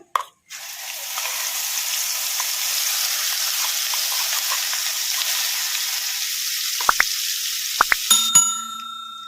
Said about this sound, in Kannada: ಮಸಾಲೆ ಎಲ್ಲ ಎಣ್ಣೆಗ ಫ್ರೈ ಆಗೋವರೆಗೂ ಒಂದೆರಡು ನಿಮಿಷ ಫ್ರೈ ಮಾಡ್ಕೊಂಬಿಡೋಣ